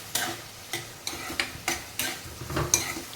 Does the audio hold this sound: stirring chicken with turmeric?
yes